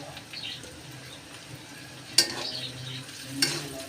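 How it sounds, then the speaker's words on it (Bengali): Crushed garlic frying in a pot for a beef liver curry, a soft steady sizzle with a couple of sharp scraping stirs of a spoon against the pot. "রসুন একটু হালকা ভাজা দিয়ে নেব।"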